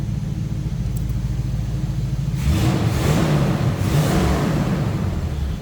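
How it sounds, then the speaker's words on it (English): A 1938 Ford Deluxe convertible street rod idles with a low rumble, then its exhaust cutout opens and the engine note swells louder and rawer, steady and close with no talk. "you can hear that exhaust has opened up"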